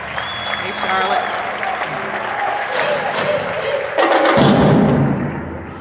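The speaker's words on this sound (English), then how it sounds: "clap your hands for" A church congregation claps and applauds for a visiting drill team from Charlotte, North Carolina; a steady crowd of hands swells louder toward the end, with a voice speaking over it and a few thumps.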